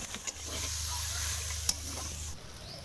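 Chili and garlic tempering spices sizzle in hot oil at an outdoor family picnic cookout: a soft, steady hiss over a low hum, ending with a brief sharper crackle and clatter.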